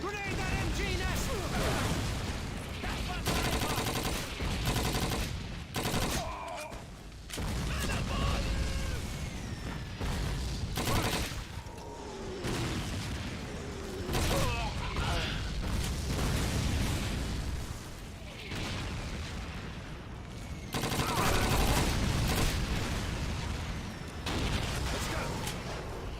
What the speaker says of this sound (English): Look out! Machine gun over there!